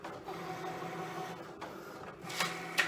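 A Cricut cutting machine runs close by and quietly, with a low motor hum and whir, then a few sharp scraping clicks near the end.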